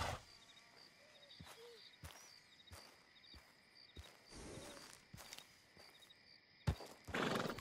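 A horse in Red Dead Redemption 2 whinnies and snorts amid slow clip-clop hoof steps, with a few faint bird chirps over quiet outdoor ambience and a louder burst near the end.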